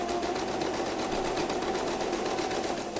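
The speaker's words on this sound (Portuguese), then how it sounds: "A gente vai costurar reto." A sewing machine stitches a straight seam, its rapid even needle chatter running steadily and close up throughout, with no talk.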